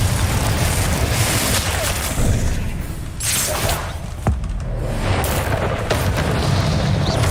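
Confringo fire-blast spells explode in Hogwarts Legacy combat, heard as a dense, continuous wash of booming blasts, thuds and crackling impacts layered over loud game noise, with one sharper hit standing out midway.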